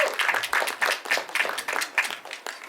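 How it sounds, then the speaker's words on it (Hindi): Crowd applause at a film trailer launch event, rhythmic clapping with distinct bursts, moderately loud and unbroken by speech. "एक बार जोरदार तालियां"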